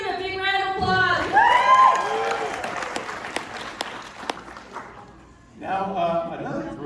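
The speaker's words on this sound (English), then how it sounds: "Let's give a big round of applause." An event crowd at a charity walk kickoff in Orange County, California applauds with scattered cheers and whoops, the applause swelling then fading while a voice talks over it.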